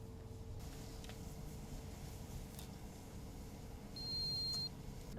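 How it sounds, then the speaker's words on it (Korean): A single steady electronic beep from a water level sensor going under water, clear and thin, lasting under a second over a low background rumble. "이렇게 삐 소리가 날 때 저 센서가 이제 수위에 이제 잠겼다는 소리거든요."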